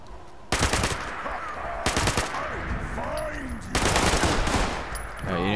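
Automatic gunfire in Fallout 76 comes in three loud, close bursts, each a rapid string of shots with short pauses between volleys, over steady in-game ambience.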